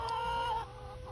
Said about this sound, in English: we do definitely still have chickens